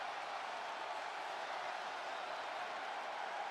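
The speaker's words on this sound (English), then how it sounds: "Carmelo Hayes getting a reception from the crowd." A crowd in the WWE 2K25 wrestling video game greets wrestler Carmelo Hayes with a steady, even roar of cheering and applause that holds at a constant level throughout.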